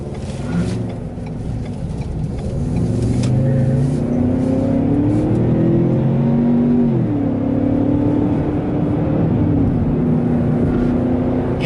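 A 2021 Ford Bronco Sport engine hums steadily while driving, low and continuous, with a brief shift in pitch midway as the motor changes note, in sport mode.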